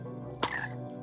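A single short, close frog croak from the video game Minecraft sounds over a quiet ambient background, with nothing else happening.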